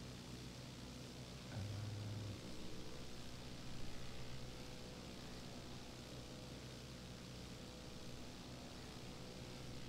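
A Cessna 152 taxiing in the X-Plane 11 flight simulator gives a steady, low propeller-engine drone that holds evenly throughout, with a brief louder patch early on and no voices.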